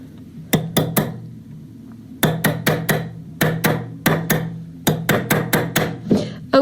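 A tube bezel cuff is hammered on a steel mandrel in a jewelry workshop, giving bright metallic strikes in quick bursts of two to four blows separated by short pauses, loud and close with no talk.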